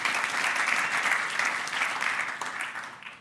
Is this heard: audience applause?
yes